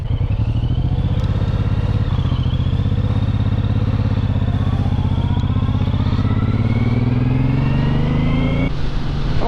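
A motorcycle carrying two riders pulls away, its engine droning steadily and rising in pitch as it accelerates, loud and close throughout with a brief shift near the end.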